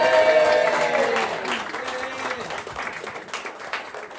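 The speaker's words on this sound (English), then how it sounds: "Make some noise, everybody." Pub crowd applauding and cheering, a loud burst of clapping and whoops that gradually thins out while a voice talks over it.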